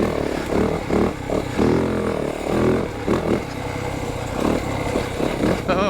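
A 2025 Yamaha YZ450FX dirt bike engine pulling in third gear, a loud, close, buzzy four-stroke drone with uneven surges of throttle and wind rush throughout.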